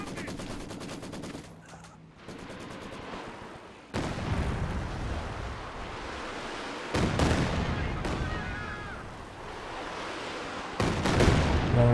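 A long-range artillery barrage in Company of Heroes 2 lands as a series of heavy blasts with sudden onsets, each followed by sustained rumbling, mixed with other battle noise at moderate level.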